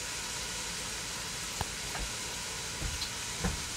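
Beef chunks browning in a hot pan for a braised Epirus-style beef with olives, a continuous soft sizzle with a few light taps and stirring bumps scattered through it.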